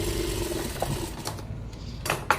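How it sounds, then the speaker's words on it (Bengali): A sewing machine runs continuously while stitching a blouse, a steady close mechanical whir with a few light clicks and knocks near the end. "আজকে তোমাদেরকে আমি ব্লাউজ সেলাই দেখাবো"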